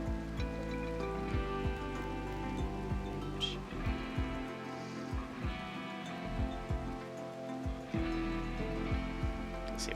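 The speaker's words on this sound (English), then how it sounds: "when will the rain end?" Rain falls steadily in the video game RimWorld, a continuous patter beneath a game music bed and faint clicks, with no talk.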